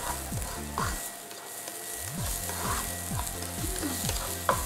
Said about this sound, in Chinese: 跟住落啲油落去啦，爆香啲姜蒜啦，同埋冬菇先